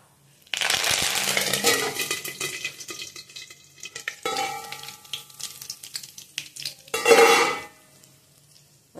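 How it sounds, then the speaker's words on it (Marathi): Mustard seeds and curry leaves crackle and sizzle in hot oil, starting with a loud burst of spluttering that eases into steady frying with pan scrapes, then a second sharp flare of sizzling before it quiets. "मोहरी टाकू, बघा छान मस्त तडतडली"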